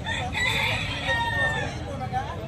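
A gamecock stag crows in a long, strained, wavering call at fairly close range, with faint background babble in a cockfighting setting at Tabunok.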